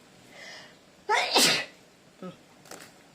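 One loud, close sneeze with a sharp burst of breath, followed by a few faint sniffs and small noises.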